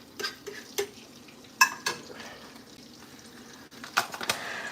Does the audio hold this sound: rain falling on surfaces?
no